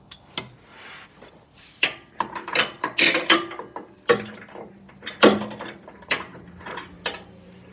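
A ratchet tightens bolts on a 2018 Jeep JL suspension during spring isolator replacement and lift installation, with repeated sharp clicking bursts, close and loud, alternating with brief pauses and metallic clatter.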